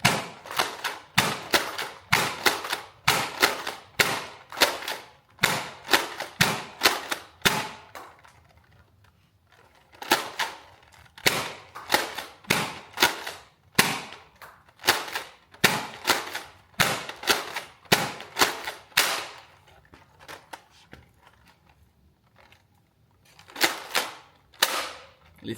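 A modded foam dart blaster shooting X-Shot darts at targets gives out sharp, snappy pops in quick bursts, each volley followed by a pause before the next string of shots.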